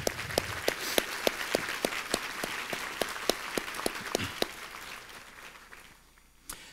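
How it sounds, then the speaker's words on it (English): A luncheon audience at a Power of Pink charity event applauds, a broad wash of clapping with a few sharp nearby claps standing out, gradually tapering off and fading away. "let's give a round of applause to those two again"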